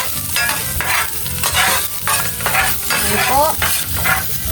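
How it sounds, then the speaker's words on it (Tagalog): Garlic sautés in hot oil in a pan, making a loud, dense crackling sizzle with repeated stirring scrapes, and a voice speaks briefly. "magsisimula na po tayong magisa. Lagyan na po natin ng bawang po."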